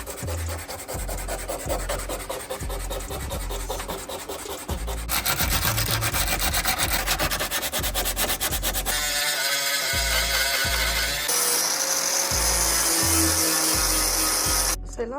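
Sanding back rust spots on a 4th-generation Honda Prelude sunroof, a close, continuous abrasive scrubbing in quick rhythmic strokes that shifts in tone a few times over fifteen seconds.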